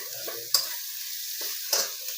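A spatula scrapes and stirs potato filling for kachori in a frying pan, steady sizzling hiss underneath with two sharper scraping strokes, close and alone without speech.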